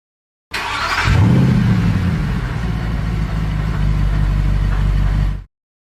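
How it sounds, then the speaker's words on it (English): A passenger car drives past at speed, a loud, steady engine roar with a strong low rumble and a brief higher burst at the start, lasting about five seconds with no voices. "C is for car, that goes so fast."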